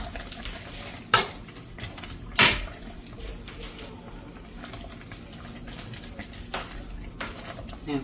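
A utensil pushes chicken dumplings down into a boiling pot, giving two distinct metallic clanks and a few softer knocks against a low kitchen background.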